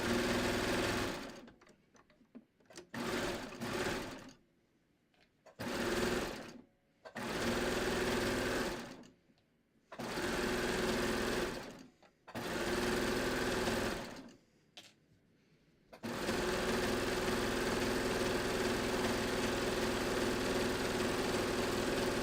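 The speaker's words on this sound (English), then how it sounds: "now I'm gonna stitch the side seam of this leg" A sewing machine stitches the side seam of a trouser leg in loud, close bursts of rapid whirring broken by short pauses, then ends in one long unbroken run.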